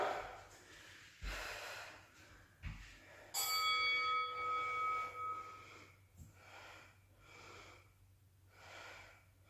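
A workout interval timer bell rings once with a bright, sustained metallic tone during a bodyweight glutes and core session, standing out over soft breathing and quiet background sounds, with fainter thumps and breaths after it.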